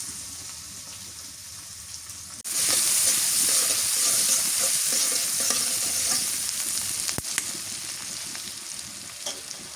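Oil sizzles softly, then surges into a loud, continuous hiss of frying after a couple of seconds, with faint crackles and stirring, close up.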